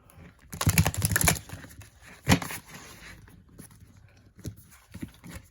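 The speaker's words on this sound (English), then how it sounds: "because these are like really thick and difficult to shuffle" A thick tarot deck is shuffled in short bursts. Two or three loud, rapid riffles of stiff cards are followed by softer taps and scattered clicks, close up.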